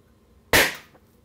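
Party popper going off: one sharp, loud bang up close that fades quickly, in a quiet room.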